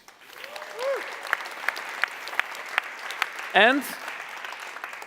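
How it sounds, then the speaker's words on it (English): Light, scattered applause from a tech conference audience for a panel on technical leadership, sparse individual claps under tonal squeaks and a brief spoken word. "I would like to give first a round of applause for them for being here"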